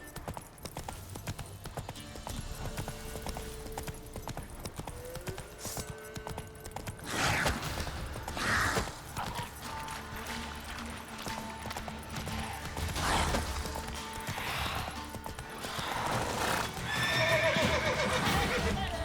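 Geralt's horse Roach in The Witcher 3 gallops with rhythmic clip-clopping hooves over a game soundscape, with several loud whinnies and snorts rising above the ride, and brief faint speech.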